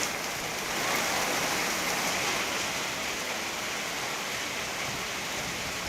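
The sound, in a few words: rain falling in Mumbai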